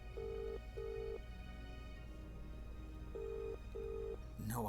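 Unanswered outgoing phone call in The Dark Side of the Moon FMV game, with paired ringback tones repeating twice in a slow cycle, faint over a low hum.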